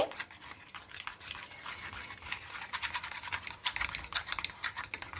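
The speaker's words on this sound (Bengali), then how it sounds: "এরপরে সুজি আর চিড়েটাকে এইভাবে একটু ভালো মতো করে মিশিয়ে নিচ্ছি।" Dry semolina and flattened rice being stirred together by hand in a bowl, a continuous gritty scratching and rustling that grows busier and louder toward the end, with no voices.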